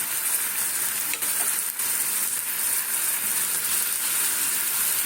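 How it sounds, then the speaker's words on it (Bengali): Potatoes and pointed gourd frying in a pan: a dense, steady hiss of sizzling oil throughout, with a couple of faint stirring taps. "আলু দিয়ে একটু নাড়ানো হয়ে গেছে এবারে দেবো পটল"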